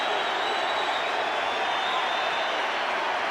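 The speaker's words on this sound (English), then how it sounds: "And the crowd love it." Stadium crowd at a 1988 rugby league match between the Brisbane Broncos and Manly Warringah Sea Eagles cheers a try, a dense, steady roar of applause and voices that stays loud and unbroken throughout.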